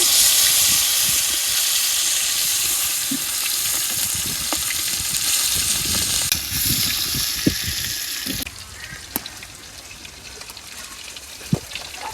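Turmeric-rubbed sea fish frying in oil, a close, strong sizzle that softens partway through, broken by occasional clatters and taps from a spatula or pan.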